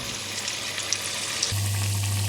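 Potato and onion pakora batter fries in hot oil, a continuous dense sizzle and bubbling hiss, close and steady, with a low hum joining partway and no voices.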